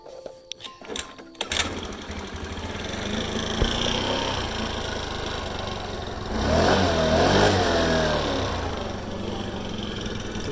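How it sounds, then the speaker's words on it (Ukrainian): Four-stroke scooter with a fault that lets it start and then stall: a few sharp clicks, then the engine catches and runs with a buzzing drone that swells around the middle before easing off. "він виходить на секунду-дві там заводиться і сразу глохне"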